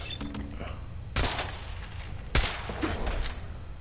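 Automated turret fire in the video game Fallout 4, two loud bursts of rapid shots against background game noise and a voice speaking.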